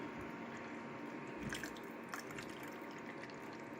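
Fridge-chilled water poured into the tank of an air cooler, a quiet steady trickle and splash under a constant hum, with a few faint glugs midway.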